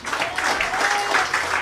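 Church congregation clapping together during a worship service, a dense, steady wash of many hands applauding at once, loud and continuous throughout.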